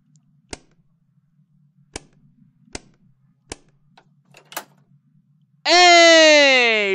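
A sound grenade goes off in the horror game My Last Friday: a few sharp, sparse clicks and taps lead into a sudden loud, sustained ringing blast with wavering harmonic tones that holds to the end.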